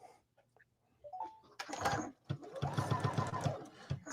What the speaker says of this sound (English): I'm going to stitch from point to point